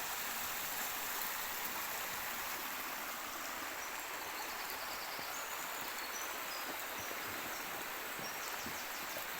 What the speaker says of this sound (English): Just listen to the sound of the running water.